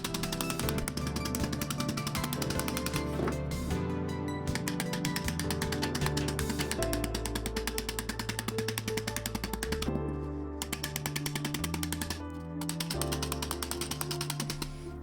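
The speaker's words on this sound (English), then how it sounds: "It's becoming a bit of a thing, this hammering over of edges." Rapid metallic hammering as steel panel edges are folded over an MDF form, a dense continuous stream of sharp blows on metal, loud and close, with brief pauses between bursts.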